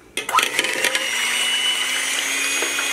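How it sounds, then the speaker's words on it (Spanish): An electric mixer whirs loudly and steadily as it beats eggs for Salvadoran torrejas, starting after a brief clatter and holding an even high whine to the end. "Ahora yo voy a batir los huevos."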